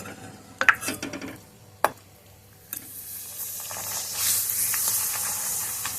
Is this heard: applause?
no